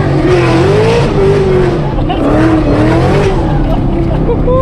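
A 1200hp Shelby GT500 at full throttle on a first drive, its engine roaring loud and close with rising and falling pitch as the tires spin and lose traction, continuous throughout.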